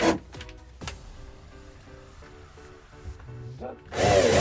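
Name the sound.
power drill driving screws through power strip holes into wall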